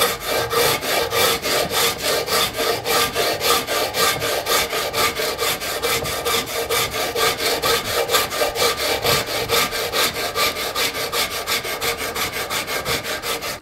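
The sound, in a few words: wood rasp shaving a wooden bow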